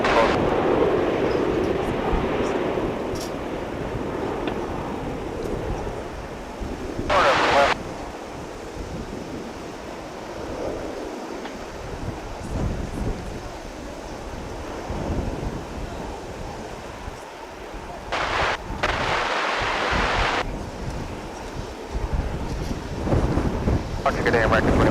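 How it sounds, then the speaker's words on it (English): An Airbus A321 airliner on its takeoff roll at DFW Airport, a sustained, loud, broad jet roar heard from a distance, punctuated by gusty bursts of wind buffeting the microphone. "Finally, the flight bound for San Antonio is"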